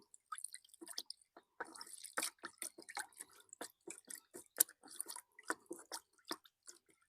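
Liquid strained from soaked naphthalene, dripping and trickling in a steady stream of small, close, separate drops and splatters with no talking.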